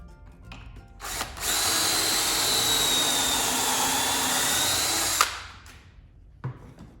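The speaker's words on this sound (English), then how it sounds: "So I'll continue to drill all these holes" A power drill whines loudly and steadily for about four seconds while drilling holes in wood, starting and stopping abruptly, with quieter handling noises before and after.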